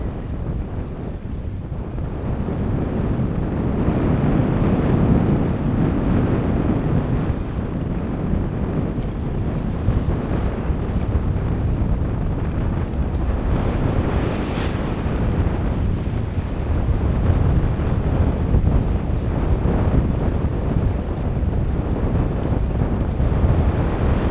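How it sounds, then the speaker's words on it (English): Strong wind and building seas around a 21-foot sailboat underway, a constant loud roar of gusting wind buffeting the microphone over the steady wash of waves, continuous throughout with no voices. "Mark III has no problem handling this sort of wind."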